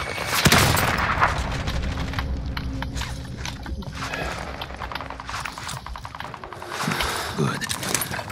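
Gunfire from a team-based shooter video game, dense bursts of shots crackling near and far in a busy mix, with hoofbeat-like clatter and players' voices talking over the fighting.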